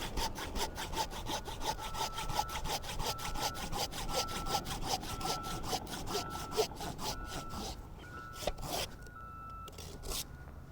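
A hand saw cuts through a tree branch during pruning, with fast, even back-and-forth strokes rasping steadily through the wood, close and continuous before slowing to a few final strokes.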